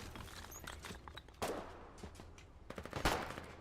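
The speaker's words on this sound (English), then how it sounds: "Artillery is now landing on us." Artillery shells strike in a war video game, two heavy broadband blasts about a second and a half apart standing out over a busy bed of crackling gunfire and rattling impacts.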